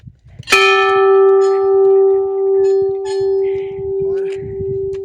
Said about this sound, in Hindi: घंटी थोड़ा ऊपर है